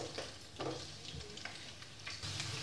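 Cauliflower frying in oil left over from frying paneer gives a faint, low-level sizzle with a few soft scraping stirs over a short stretch, quiet and without voices.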